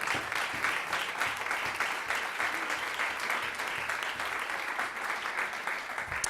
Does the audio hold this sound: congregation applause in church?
yes